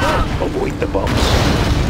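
Bombs exploding in the strategy game Command and Conquer Generals: deep, rumbling booms rolling through the whole stretch, with a voice speaking over them.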